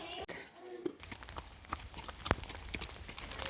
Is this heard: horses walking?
yes